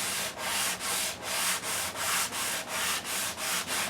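A maple guitar neck sanded by hand with 180 grit sandpaper: close, even back-and-forth rasping strokes, about ten in a steady rhythm with short pauses between, alone without talk.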